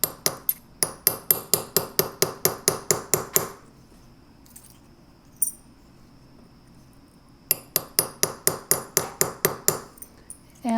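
A small hammer taps a metal tube rivet on enameled earrings in rapid, even, ringing strikes, a run of about fifteen bright blows, a pause of quiet, then another steady run, close and crisp.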